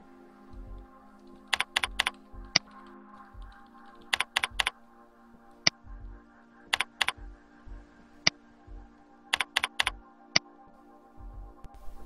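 Object names are typed on a computer keyboard in short bursts of crisp key clicks, separated by quiet pauses, with a faint background hum and no talk.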